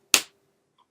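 One crisp, close finger snap, a single sharp click that decays quickly into silence.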